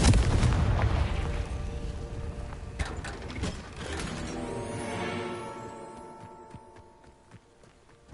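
A Confringo fire-blast spell explodes in Hogwarts Legacy with a loud, booming burst up front, then further thuds and impacts that fade into a low rumbling tail.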